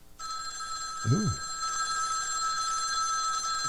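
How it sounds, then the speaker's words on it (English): A telephone rings steadily with a bright, continuous electronic tone, while a person gives a short vocal exclamation partway through. "Or that telephone ringing."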